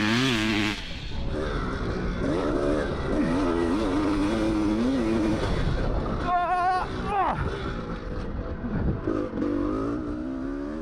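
A CR450 dirt bike at the Elsinore track is ridden hard, its engine revving and rising in pitch through gear changes, loud and continuous with wind rush, as a rider talks over it.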